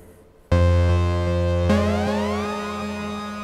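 A Moog Sub37 synthesizer holds a bright buzzy tone, then jumps in at a louder level and glides smoothly upward to a new pitch, sustained and close with no talk.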